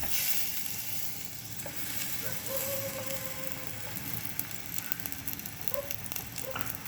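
Half-ripe bananas fry in hot oil, a steady soft sizzle and crackle with faint scattered pops throughout, heard close without any talk.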